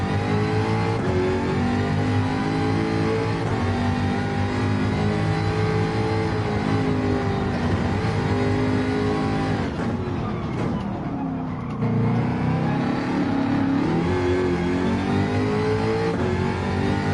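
Car engine in the Gran Turismo 7 racing game, a steady loud drone with harmonic bands and a pitch dip and recovery midway, like revving and shifting, with no talk.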